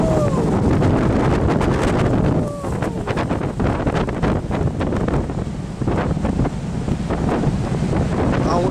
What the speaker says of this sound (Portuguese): Tá um vento danado, ó.